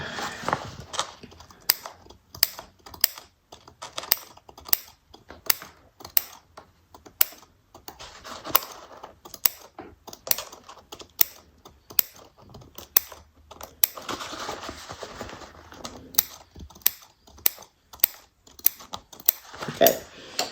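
Scissors snip paper again and again at a steady, fairly quick rhythm for a card-making project, each cut close and distinct against quiet rustling.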